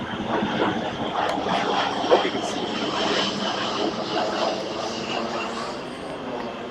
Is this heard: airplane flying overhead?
yes